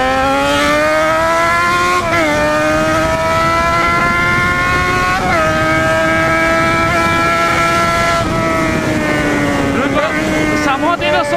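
A motorcycle engine in a video game drones loudly and steadily while the bike is ridden through the woods, its pitch dipping and rising with gear shifts and cornering over wind noise.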